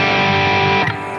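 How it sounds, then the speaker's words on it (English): Electric guitar through an Axe-FX preset with reverb and delay, a sustained loud distorted chord that cuts off and leaves a fading wet tail, with no voices. "here I'm using also a bit of reverb and delay."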